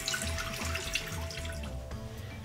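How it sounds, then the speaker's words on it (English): Water runs steadily from a faucet into a bathroom sink while someone washes their face, a close, continuous splashing hiss with faint drips and hand movement, no talking. "And then I wash my face with water."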